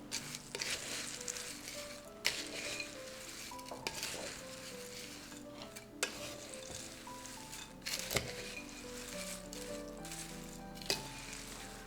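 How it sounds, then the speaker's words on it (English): A spoon stirs homemade granola mixture seasoned with cardamom and a pinch of salt, producing soft scraping and rustling strokes with a few sharper knocks against the bowl, close and quiet with no talking. "I'm gonna give that a stir just to get it incorporated"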